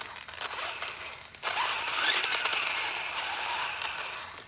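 An RC car motor and gears run after the motor mesh was adjusted, a dense mechanical whirring and rattling that grows louder midway and stays busy and close throughout.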